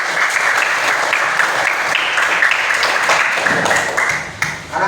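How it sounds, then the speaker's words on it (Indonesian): Schoolchildren clap steadily in a classroom, with loud, close applause sustained for several seconds before thinning out at the end. "Tepuk tangan."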